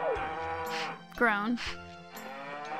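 Cows moo in a farming video game, several long drawn-out lowing calls up close and fairly loud, with someone talking over and between them.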